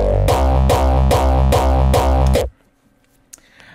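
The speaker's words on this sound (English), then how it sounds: "First, I'm going to show you the plain kick, how it sounds like." A plain hardstyle kick drum sample pounds out five loud, distorted kicks in a steady four-on-the-floor rhythm, each with a heavy, tonal low-end boom that runs into the next, then cuts off abruptly into near silence.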